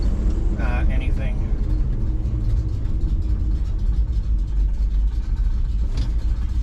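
A 1972 Ford F250 Ranger pickup truck idles with a steady, deep, low rumble heard up close, with a few faint brief chirps early on.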